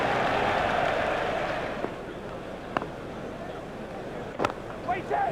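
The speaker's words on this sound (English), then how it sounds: "Crowd are giving him an excellent round of applause." Cricket crowd applause at a T20 international between Sri Lanka and Australia, a broad, steady wash of distant clapping and crowd noise that slowly fades, with a few sharper bursts near the end.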